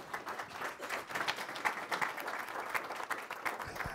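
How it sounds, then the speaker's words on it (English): Audience applause at a city council meeting, a steady wash of many hands clapping throughout, moderately loud and even without any talk over it. "Let's have a round of applause for them."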